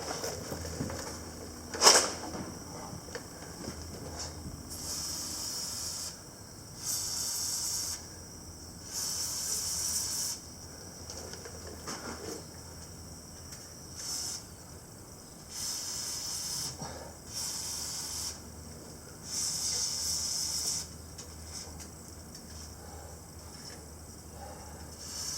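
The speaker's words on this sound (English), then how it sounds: "I'm going to squirt oil under there." Oil is squirted onto the twine tensioner roller of a Hesston baler in a run of short, faint hissing spray bursts, spaced a few seconds apart against a quiet background with no talking.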